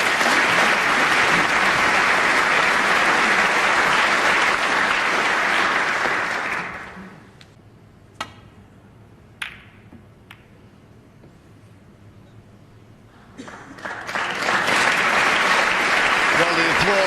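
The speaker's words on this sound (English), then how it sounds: "Well, the applause started," At a Ronnie O'Sullivan UK Championship snooker match, the audience applauds loudly, then the clapping dies away. A commentator talks over a quiet hall with a couple of sharp clicks, and the applause swells back up again.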